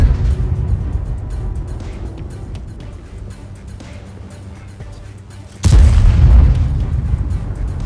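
A tank cannon in World of Tanks, on an Object 703 II, fires one heavy deep boom near the end, loud and close, after a stretch of low rumbling engine ambience.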